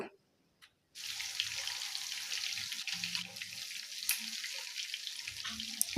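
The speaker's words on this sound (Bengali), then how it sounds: "এখন মাছগুলো এপিট ফিট করে আমি ভেজে নেব" Pieces of pangas fish fry in oil with a faint, steady hiss that begins after a second of near silence, with a few soft clinks underneath.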